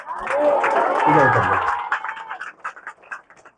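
Audience applause at a Hindi-language Easter church sermon, a dense burst of clapping that swells for about two seconds and then thins into scattered claps, with voices over it.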